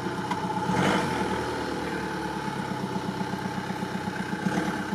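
A car engine idles with a steady, close, throbbing hum while the car rolls over an Olight Warrior X Pro flashlight during a torture test; the low pulsing continues unbroken with no talking.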